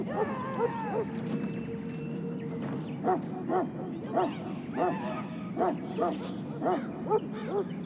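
A Mabari war hound barks repeatedly in a fantasy video game, sharp rhythmic barks rising over a narrating voice and background game ambience.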